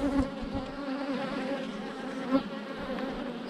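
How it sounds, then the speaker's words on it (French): Bees buzz near a hive box, a close, continuous insect drone with a few louder passes as one flies by the listener, heard alone without voices. "J'ai 2 abeilles"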